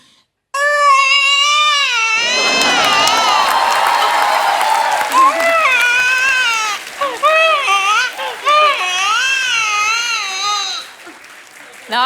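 A voice imitates a newborn baby crying on a television comedy show stage, loud wavering wails repeated over several seconds, with audience applause and crowd noise swelling beneath.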